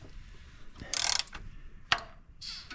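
Ratcheting clicks and bursts of metallic rattle come from turning over a 2006 Chevrolet Colorado engine by hand, its timing chain slack because of a broken tensioner, in a few short separate bursts close by.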